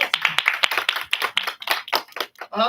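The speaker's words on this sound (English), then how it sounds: "I'd like to give all the competitors another round of applause." An audience claps for competitors at a grade 5 and 6 English storytelling contest, a small group of separate, uneven hand claps close by, thinning out toward the end.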